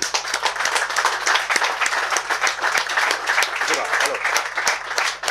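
Studio audience at a Cologne talk show applauding steadily to welcome a guest, dense clapping held at an even level throughout with no break.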